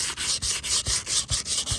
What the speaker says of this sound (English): I'm just gonna keep sanding this a little bit more